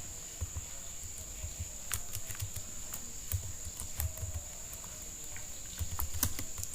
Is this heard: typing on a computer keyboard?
yes